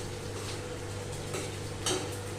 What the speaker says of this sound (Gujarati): ગુંદરને બરાબર ફ્રાય કરી દઈએ અને એક સરખું આવી રીતે સ્ટર કરવાનું